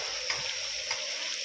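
Mutton frying in a pan as chopped tomatoes are added and stirred, a quiet continuous sizzle with brief stirring clicks, no talking.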